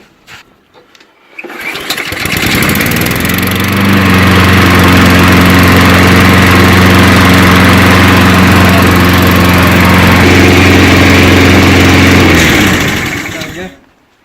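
A Honda Izzy lawn mower engine catches after a few faint knocks and runs at a loud, steady drone for about ten seconds before cutting out, with no one talking.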